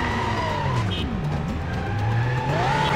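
A car in the Stuntman PS2 video game drives with a revving engine, its tires squealing and skidding in repeated rising and falling whines.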